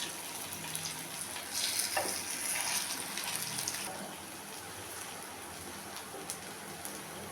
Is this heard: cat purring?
no